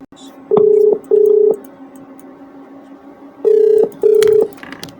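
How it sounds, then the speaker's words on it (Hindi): A telephone ringback tone purrs in two paired bursts, a short pause between each pair, loud and clear over a quiet line. "घंटी जा रही है, शायद बात मेरी उठा ले, फोन हो जाए तो बहुत अच्छा है"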